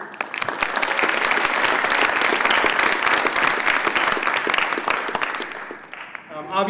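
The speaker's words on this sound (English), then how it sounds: "And round of applause for Aaron." A round of applause for a student athlete at a college signing ceremony, loud and dense clapping from a room of people that holds steady, then thins and fades near the end as a voice begins.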